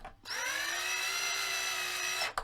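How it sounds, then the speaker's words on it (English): Power drill whirring steadily while driving screws back into a Stratocaster-style electric guitar, one sustained near, loud run of about two seconds with a sharp start and stop. "use the drill to put the screws back in again"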